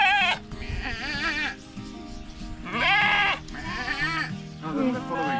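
Sheep bleat loudly and close by on a farm, several long wavering calls in turn, with people talking among the animals.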